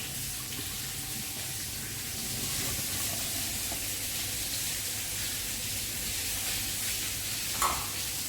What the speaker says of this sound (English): Just want to drain the water out of these potatoes.